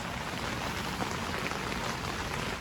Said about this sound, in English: It's pouring down rain. We've got a storm again.